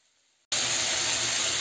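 Meat drops into a hot pan with green chili and chopped ginger, silence suddenly bursting into a loud, continuous sizzling hiss that holds steady.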